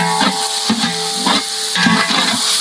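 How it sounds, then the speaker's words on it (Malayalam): Ginger and green chillies sizzling and frying in a hot pan for chicken biryani, a steady close hiss with soft stirring scrapes recurring every half second or so, no voices. "ഇഞ്ചി, പച്ചമുളക്, ഇനി ഇതൊക്കെ പാലിട്ട് നന്നായിട്ടൊന്ന് വഴറ്റി."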